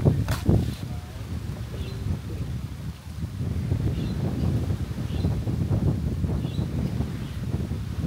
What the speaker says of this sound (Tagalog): Ang ganda ng hangin dito